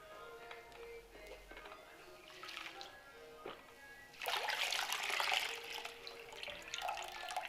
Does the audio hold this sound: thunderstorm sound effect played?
no